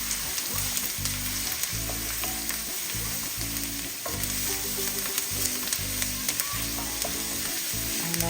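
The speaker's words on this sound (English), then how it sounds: "that's the garlic and the onion cooking, smelling really good" Garlic and onion frying in a pot for a Guyanese goat and squash curry, with a continuous close sizzle and occasional stirring scrapes.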